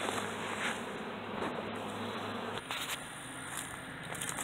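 A swarm of honey bees hums in a dense, steady buzz, close and continuous, with a few individual bees whining nearby.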